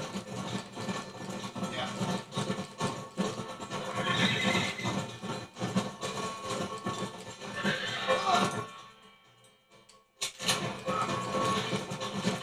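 A horse whinnies and snorts amid busy Red Dead Redemption game sounds and hoof clatter, loud throughout, with a brief near-silent gap before the noise resumes.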